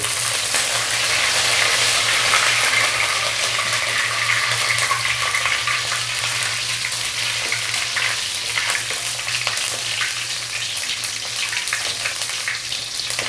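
Dried red chillies, green chillies and curry leaves frying in hot oil for an Andhra egg gravy, a loud continuous sizzle with a steady hum underneath, close and without talk.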